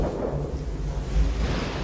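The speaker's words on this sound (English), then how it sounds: "All those churning clouds have sparked an electrical storm." Thunder from an electrical storm amid churning clouds on a distant giant planet, a deep continuous rumble that swells and rolls for a couple of seconds, loud and heavy in the low end with no other sounds.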